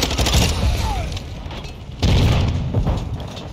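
Light machine gun fire in a first-person shooter game, loud and dense, in two sustained bursts with a short dip in intensity between them.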